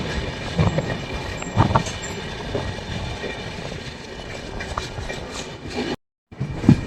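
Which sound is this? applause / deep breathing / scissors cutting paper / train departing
train departing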